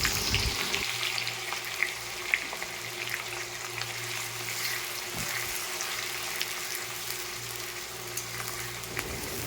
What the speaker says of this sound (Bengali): এবার কেটে রাখা পেঁয়াজগুলো দিয়ে দেব